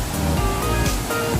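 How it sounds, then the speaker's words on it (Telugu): Water pours down steadily at the Kothapalli waterfalls as a loud, continuous close-up rush with no other sounds. "ఇక్కడ చూసారా ఫ్రెండ్స్, వాటర్ ఫాల్స్ అనేవి స్టార్ట్ అయినవి ఇక్కడ నుంచి కిందకి"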